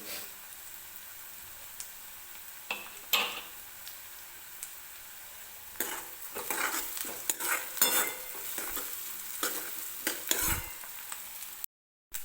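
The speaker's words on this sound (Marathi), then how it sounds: "हलकासा गोल्डन होईपर्यंत आपल्याला भाजायचा आहे बरं का. खूप जास्त डार्क रंगावर नाही भाजायचा." Onion and grated fresh coconut roasting in a pan for peanut amti, soft sizzling under scraping spatula stirs that grow busier and louder midway, close and continuous with brief pauses.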